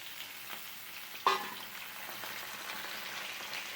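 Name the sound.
cut potatoes frying in oil with spices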